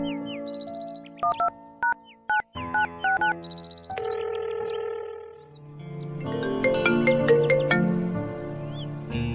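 An electronic phone ringtone plays a bright melody of beeping tones, with short repeated bursts at first and then a fuller, louder tune.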